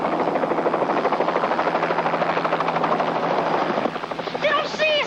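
A rescue helicopter passes overhead with steady rapid rotor chopping and a loud engine drone, then fades slightly as a few chirping tones come in near the end.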